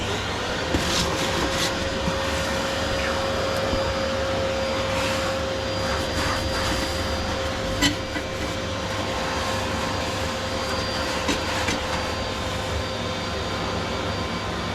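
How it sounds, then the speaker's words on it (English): The new vacuum's noisy motor runs steadily in a room being swept, a constant whiny hum with a thin high tone over a broad rushing roar, alongside faint clicks and knocks. "got one noisy motor on the vacuum"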